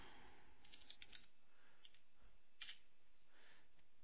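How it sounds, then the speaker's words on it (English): Faint, scattered keystrokes on a computer keyboard, a few soft clicks in small clusters against a quiet room background. "So now that we've typed in spin load"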